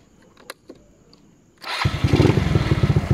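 A few faint clicks and taps in near silence, then a small GY6 big-valve scooter engine fires up for a break-in road test and settles into a loud, steady buzzing run.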